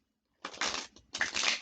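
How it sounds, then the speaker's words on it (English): Tarot cards being shuffled in two quick, crisp rustling bursts, close and fairly soft, with a short pause between them and no talking. "Okay, let's shuffle."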